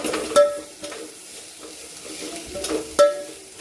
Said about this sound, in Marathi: फोडणीतच कोथंबीर पण चांगली हलवून घ्यायची